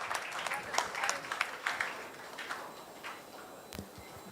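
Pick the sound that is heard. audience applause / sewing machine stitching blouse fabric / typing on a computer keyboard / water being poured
audience applause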